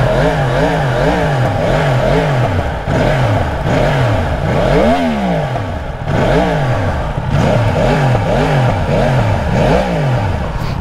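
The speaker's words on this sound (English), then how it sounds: "Cool thing about this bike in particular is it's an inline 4, but it's a cross plane crank inline 4, so it sounds very unique." A 2021 Yamaha R1M cross-plane crank inline-four with a stock muffler and catalytic converter revs repeatedly, loud and close, its pitch sweeping up and dropping in quick successive blips with no voices.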